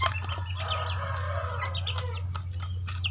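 Several chickens cluck steadily in a noisy coop while eating fermented bran feed, their calls overlapping over a constant low hum, with occasional sharper squawks.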